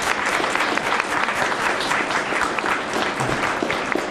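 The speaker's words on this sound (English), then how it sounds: "Can we give him a round of applause?" A room full of people applauding steadily, a dense patter of clapping throughout with no voices standing out.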